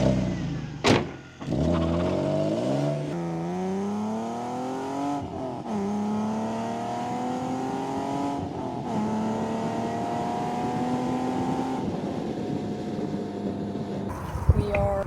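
A BMW E36 fitted with a carbon intake accelerates through several gears, each pull a rising engine drone broken by brief shift pauses, heard from inside the car at moderate loudness.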